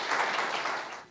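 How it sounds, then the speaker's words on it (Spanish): Audience applause welcoming a speaker to a talent talk, a dense, steady burst of many hands clapping that swells quickly and then fades out toward the end. "recibamos a María José con un aplauso, por favor."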